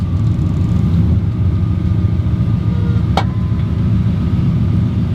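A vehicle engine, fed by pumping the carburetor, runs at a loud, steady idle close by, a continuous low rumble with one brief sharp click partway through.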